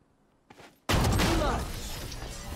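A Judge shotgun fires in a tactical shooter game, one loud close blast after a brief quiet lead-in, with a sustained roar and ringing decay behind it.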